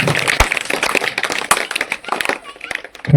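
Children applaud at a school Children's Day event, a burst of brisk clapping mixed with loud nearby voices and crowd chatter.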